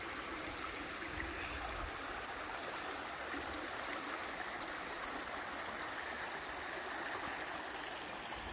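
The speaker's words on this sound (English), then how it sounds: "there's a wee river here." A small river in the Scottish hills near Wanlockhead flows as a soft, continuous rushing wash, faint and even with no voices or breaks.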